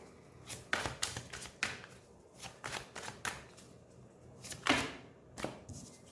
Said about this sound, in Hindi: पहले मैं कार्ड्स निकालूंगी